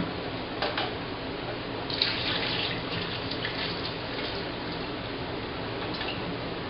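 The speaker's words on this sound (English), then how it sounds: "I'm just rinsing off with some really cold water on my noodles" Cold tap water runs steadily into a sink, splashing and hissing over noodles beneath the stream, fairly close with no voices.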